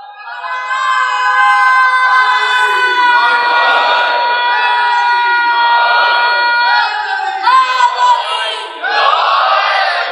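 Mourners at a Safar majlis shout religious slogans together, loud overlapping chanting voices swelling and repeating in waves, a large crowd close by.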